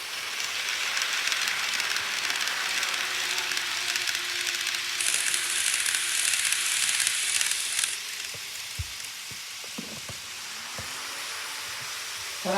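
A model railway Thunderbird limited express train runs steadily on the layout, a continuous close rolling hiss and rumble that softens after several seconds, with a few faint clicks toward the end.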